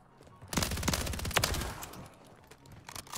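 Shotgun gunfire in Call of Duty MW3 Search and Destroy comes as a quick cluster of sharp, close blasts, followed by a fading tail of game ambience.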